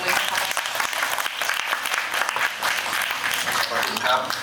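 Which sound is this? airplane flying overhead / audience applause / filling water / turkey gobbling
audience applause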